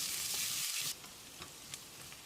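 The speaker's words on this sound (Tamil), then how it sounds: "வெங்காயத்தை செவந்து வர்ற அளவுக்கு வதக்கிடலாம்." Steady sizzling of chopped onions sautéing in a pan until browned for a mutton pepper curry: loud broadband hiss for the first second, then quieter crackle with occasional soft stirring clicks.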